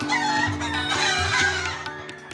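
Many chickens at the country's oldest government poultry farm, in Joypurhat, a dense chorus of clucking and crowing, close and continuous, with no talk.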